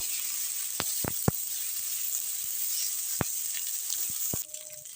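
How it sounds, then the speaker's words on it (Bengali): Cut cauliflower florets fry in hot oil seasoned with turmeric, a continuous close sizzling hiss scattered with sharp pops and crackles before it suddenly quietens near the end. "আমি এখানে কেটে রাখা ফুলকপিগুলোকে ভালোভাবে দিয়ে দিলাম"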